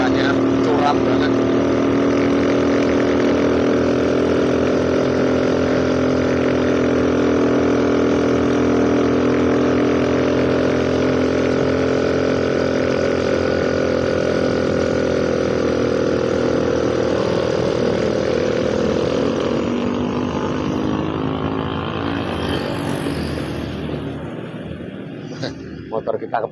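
Old motorcycle engine labouring up a steep hill and overheating, a loud, steady, close drone with strong harmonic whine that holds for most of the run, then fades and roughens as the bike slows toward a stop.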